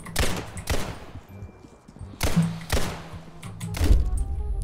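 Gunfire in the Roblox game Criminality: a few separated bursts of shots with sharp onsets and low thumps, close and loud, with no voices over them.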